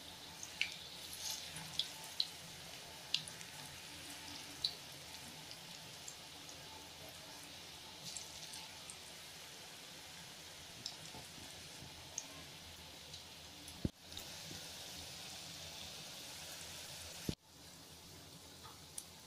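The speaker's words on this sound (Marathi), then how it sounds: "तर मी हे भजी मीडियम फ्लेमवर तळत आहे" Onion bhaji made with ajwain fry in hot oil on a medium flame, giving a faint, steady sizzle with scattered small pops and two brief louder knocks, and no talk.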